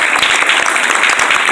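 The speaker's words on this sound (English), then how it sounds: "Can you give him a hand clap tonight?" Loud, close applause from an evening audience honoring a guest, rapid dense hand claps sustained evenly across the moment.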